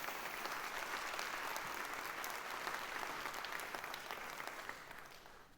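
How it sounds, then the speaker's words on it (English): A conference audience at Abarca Forward 2024 gives the event team a round of applause, sustained dense clapping that holds steady, then thins and fades toward the end. "Can we have a round of applause for our team?"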